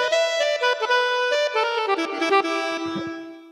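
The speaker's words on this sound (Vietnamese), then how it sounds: "tiếp theo đó là tiếng saxophone." A keyboard set to a saxophone voice plays a short run of notes, then one held tone lingers and fades at the end.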